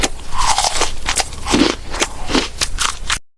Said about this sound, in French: Elle regarda Bako, qui mâchonnait bruyamment quelque chose.